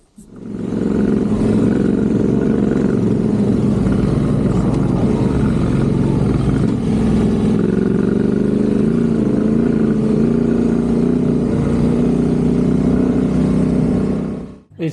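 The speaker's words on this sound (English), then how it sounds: "you're doing 3, 4, 5 hours of dune riding like this with a heavy heavily laden adventure bike" A heavily laden adventure motorbike churns across soft sand dunes in Morocco, its engine droning loud and steady for the whole stretch with shifting revs, no voices over it.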